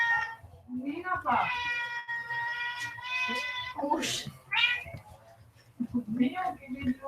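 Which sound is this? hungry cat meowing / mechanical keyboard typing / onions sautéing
hungry cat meowing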